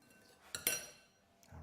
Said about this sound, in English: And then give it another stir, another mix.